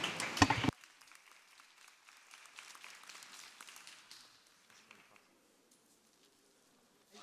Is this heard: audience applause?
yes